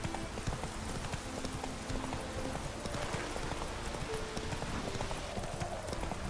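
A horse's hooves clip-clop in The Witcher 3 video game, a steady rapid galloping rhythm running throughout at moderate loudness over faint game ambience.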